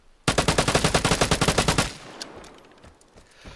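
A rapid burst of automatic gunfire in the video game Vigor: about twenty loud, close shots in quick rhythm for a second and a half, then a fading echo and faint clatter.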